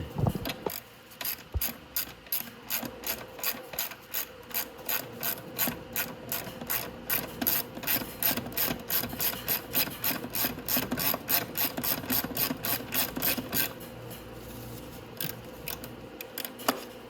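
Socket wrench ratcheting rapidly while loosening a front shock bolt on a Venom E-Madix 1300w electric ATV, a long run of close, crisp clicks in steady rhythm that slows briefly near the end.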